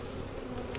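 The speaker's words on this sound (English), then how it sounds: "You can see the bees here are fanning quite rapidly" Honey bees fanning rapidly on hive frames during a swarm catch, a dense steady buzzing hum that stays close and even for under a second, with no voices.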